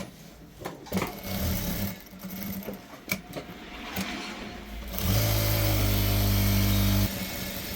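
Sewing machine stitching a shirt collar: short bursts of whirring and clicks at first, then a loud, steady run of rapid stitching for about two seconds before it eases off.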